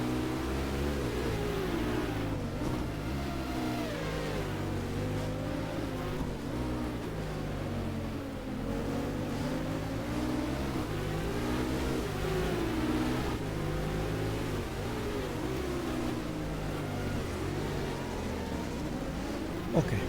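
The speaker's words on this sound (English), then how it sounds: "James Weaver with the Richard Lloyd Porsche 956 GTI or CKC" Porsche 956 Group C race car engine in the GTR2 racing game at Suzuka, a steady loud drone with shifting pitch that holds continuously, no talk over it.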